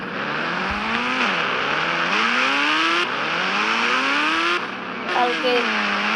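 A Ninja motorbike engine in the video game Indian Bikes Driving 3D revs steadily, its pitch climbing again and again as it shifts through gears, loud and continuous.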